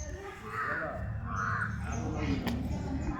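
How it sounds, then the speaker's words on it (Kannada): A crow near a temple caws two or three times at a moderate distance. The calls are fairly faint over a low, steady outdoor rumble. "ಅಲ್ಲೊಂದು ಕಾಗೆ ಐತೆ ನೋಡ್ತಾಳೆ ನೋಡು ಕಾಗೆ"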